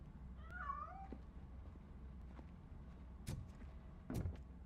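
A cat in a video game meows a few times in a rising, warbling call, clear over a low steady background hum, with a couple of sharp knocks afterward.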